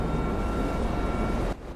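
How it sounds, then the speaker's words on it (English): Jet roaring overhead in GTA V Online, a loud, steady broadband rush that holds for most of a second and a half, then drops off abruptly. "I hear a jet."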